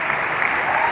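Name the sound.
audience applause for God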